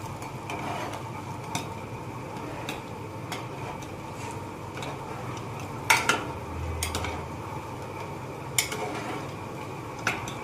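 Mutton curry being stirred in a cooking pot, with a spoon clinking and scraping against the metal in scattered sharp knocks over a low steady simmering background, no talk.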